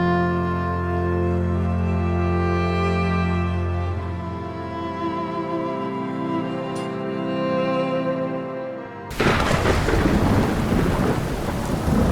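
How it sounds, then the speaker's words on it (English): Thunderstorm weather in the video game Skyrim: low, sustained tonal rumbling for about nine seconds, then heavy rain suddenly bursts in and hisses loudly to the end. "On day 10, I was awakened by a massive thunderstorm."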